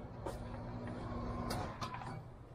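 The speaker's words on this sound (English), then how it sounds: "We got the bread truck rolling." A bread truck van rolls along with a steady low engine and road rumble, a brief hiss like an air brake or door near the middle, and another short clatter a moment later.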